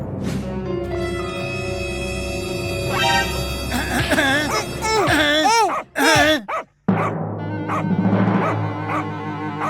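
A cartoon dog barks and yelps loudly in a rapid, excited run of wavering bow-wows and whimpers, with a brief cut of silence before a lower, steadier stretch resumes.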